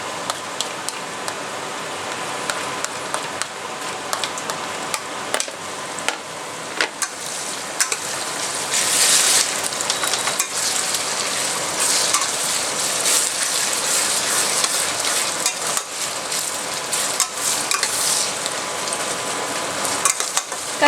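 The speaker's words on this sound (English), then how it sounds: "Continue to stir in medium flame so that the garlic doesn't burn" Chopped garlic and ginger frying over a medium flame, a continuous close crackling sizzle with scattered scraping stir strokes throughout.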